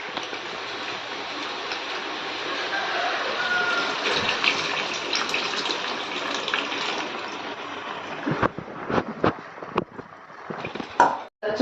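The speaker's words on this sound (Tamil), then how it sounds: "ஒரு டம்ளர் தண்ணி ஊற்றிருக்கேன்" Tamarind water is poured into pumpkin curry as it cooks: a continuous close gush of liquid streams steadily into the pot for several seconds, then breaks into a few splashes and spoon knocks.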